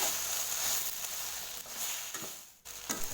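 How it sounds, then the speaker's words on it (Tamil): Homemade chilli sauce sautés in a pan for Indian-style chilli parotta, giving a soft, steady sizzle with occasional stirring scrapes, quiet and close. "இது வீட்டில் ரெடி பண்ணனால நான் கொஞ்சம் பச்சை வாடை போகிற அளவுக்கு வதக்குறேன்"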